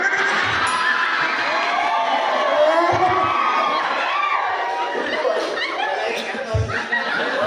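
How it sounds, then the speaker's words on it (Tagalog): Noisy crowd of adults and children shouting, laughing and chattering all at once at a lively live show, loud and continuous throughout with no pause. "Sorry, the crowd is so noisy."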